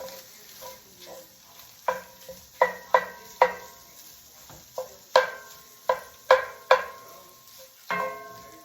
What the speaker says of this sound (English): And let me give that a stir.